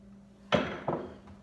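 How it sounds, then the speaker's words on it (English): A mallet strikes a woodcarving chisel driven forcefully into wood: two sharp, loud knocks in quick succession, close up, with no talk. "I'm putting a lot of force into this wood with this mallet and this chisel"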